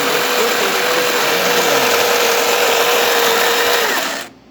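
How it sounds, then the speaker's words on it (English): A DeLonghi Magnifica coffee machine's built-in grinder grinds beans for a small coffee with a loud, steady, high-pitched whirring buzz that runs unbroken for about four seconds, then cuts off abruptly. "make sure you adjust it while the grinder is grinding"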